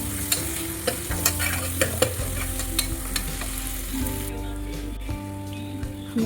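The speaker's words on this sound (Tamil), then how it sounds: "வெங்காயம் வந்து நல்லா வந்துட்டு வதங்கட்டும்." Onions sauté in a pan with a close, continuous sizzle. Frequent scraping stir strokes and light taps sit over a low steady hum, and nobody speaks.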